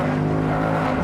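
Loud, close V8 engine note of a 2019 Ford Mustang GT Convertible while cornering, a steady deep rumble with strong low harmonics held through a brief one-second stretch.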